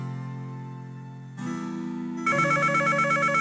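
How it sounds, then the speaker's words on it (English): A telephone rings in the Nancy Drew video game Treasure in the Royal Tower. The rhythmic electronic ring comes in over sustained background music tones. "Oh, we got a phone call."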